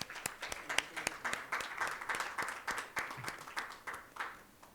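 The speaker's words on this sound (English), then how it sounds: "Let's have a huge round of applause for him." A panel discussion audience at a licensing event claps in a sustained round of applause, moderately loud with some distinct hand claps popping out over the steady patter.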